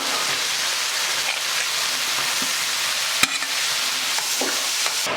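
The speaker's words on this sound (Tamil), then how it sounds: "இப்போ முள்ளங்கி போட்டு நல்லா பாதி வதக்கினதுக்கப்புறம்" Grated radish and tomatoes sauté in a pan with a steady, close sizzle and scraping stirs, plus a sharp utensil clack partway through and a few smaller knocks.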